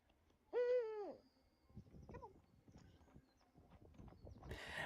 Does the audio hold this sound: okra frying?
no